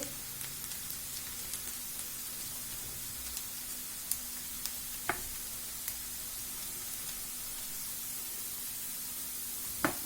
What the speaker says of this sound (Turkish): Evet, biberimiz kavruldu güzelce.